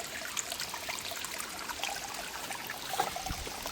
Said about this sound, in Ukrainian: тут є невеличке джерело, таке воно так воно виглядає